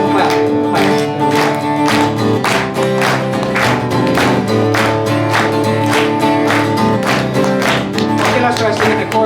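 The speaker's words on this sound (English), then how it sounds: "Help me out, clap your hands, come on." Concert audience clapping hands along in a steady rhythmic beat with live folk music and singing, loud and continuous throughout.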